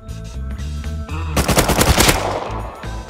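Automatic turret gunfire from a rooftop in the survival game Rust, a loud, sustained rapid burst of shots that swells in the middle of the moment over a steady low in-game hum.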